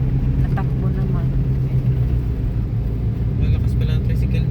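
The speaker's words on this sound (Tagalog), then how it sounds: "Malakas pala ang tricycle dito." A loud tricycle engine rumbles steadily on a street in Batangas, a constant low motor drone close by, with people talking underneath.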